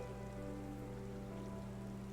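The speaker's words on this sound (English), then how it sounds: "May still be raining though." Steady rain falls throughout an outdoor scene in Final Fantasy XIV, a continuous soft hiss of drops on surfaces with a low droning ambience underneath, no voices.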